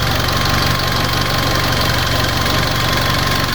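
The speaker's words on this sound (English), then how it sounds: "How quiet that engine is." Fiat 500 petrol engine idling steadily and smoothly close up, a loud continuous even hum with faint regular knocking and vibration, no pauses and no voices.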